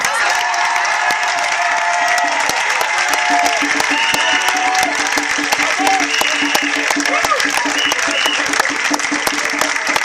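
Church congregation applauding and cheering during a worship service, dense continuous clapping from a large crowd with voices and shouts mixed in, loud and sustained throughout.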